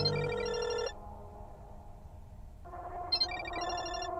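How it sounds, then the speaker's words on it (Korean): A phone ringtone rings from a neighbouring apartment's veranda in a game, a loud electronic melodic tone that plays for under a second, pauses, then resumes with repeating bright chimes. "그런데 벨소리가 옆집 베란다에서 들려오고 있습니다."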